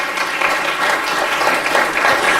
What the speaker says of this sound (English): Would you please give Nurse Ray Rice a round of applause?